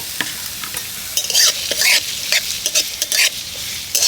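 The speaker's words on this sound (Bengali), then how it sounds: "এবার ওই তেলের মধ্যে আমি দিয়ে দেবো পেঁয়াজ কুচি। পেঁয়াজটাকে একটু হালকা করেই ভেজে নেব।" Chopped onion fries in hot white oil in a wok, a constant bright sizzle broken by repeated scraping stirs of a spatula against the metal, several louder strokes clustering in the middle.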